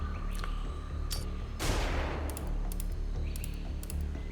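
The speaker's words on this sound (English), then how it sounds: "You'll have just enough TU to step out of line of sight after you throw this flashbang." A flashbang grenade in the Xenonauts 2 tactical game gives a single sharp, loud burst with a hissing tail that fades over about a second, set against steady game ambience.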